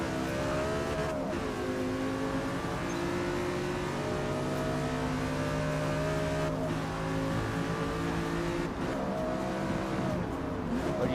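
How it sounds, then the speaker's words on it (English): A video game car engine holds a loud, steady revving drone, its pitch sliding up and down with several gear shifts along the way. "I like listening to the car though."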